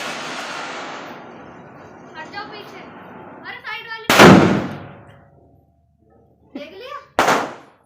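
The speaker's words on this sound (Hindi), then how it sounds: "अब हम चला रहे हैं यहाँ पर पटाखे" Two sharp Diwali firecracker bangs with long crackling decays, close and loud, while people and someone talk and shout around them.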